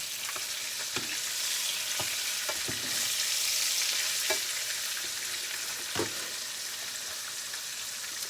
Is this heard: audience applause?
no